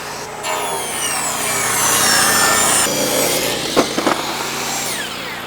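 Wooden boards being ripped on a homestead sawmill, the blade's steady rasping whine filling the whole stretch with a few short knocks near the end, loud and close.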